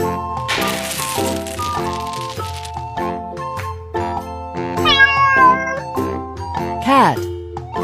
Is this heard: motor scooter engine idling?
no